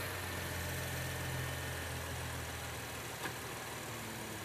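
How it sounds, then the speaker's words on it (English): A car engine idles steadily and evenly, a continuous low hum that holds without much change throughout. "let's go ahead and fire this engine up"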